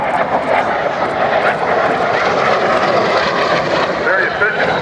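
An airplane drones steadily overhead at an airshow in Columbus, Georgia, a loud continuous engine roar that holds throughout beneath an announcer's amplified voice.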